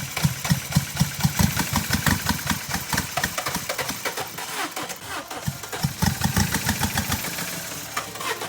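A car engine misfiring badly runs roughly at idle, with uneven loud chugging pulses and stumbling beats, close up and continuous with no talk.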